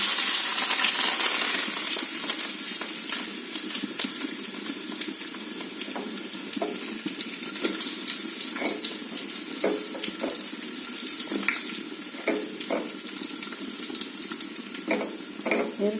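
Onion, a dried red chili and curry leaves hit hot oil with popped mustard seeds, a continuous close sizzle and crackle that flares loudest at first and then settles, with scattered stirring clicks throughout.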